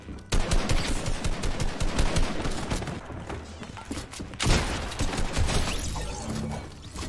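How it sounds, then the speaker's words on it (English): Rapid, dense gunfire from a Fortnite match in Tilted Towers, with a heavy burst around the midpoint that fits a double-barrel shotgun blast, all set against continuous loud shooting and game noise. "This guy really had a double barrel shotgun ready for me."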